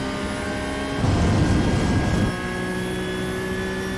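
Porsche 992.1 GT3 Cup racing engine held at full throttle in iRacing, a steady droning engine tone that swells louder for about a second before settling back to a constant hum.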